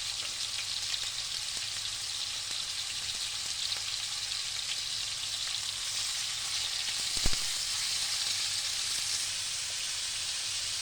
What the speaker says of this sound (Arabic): هننزل معاها الورق الراولي والحبهان.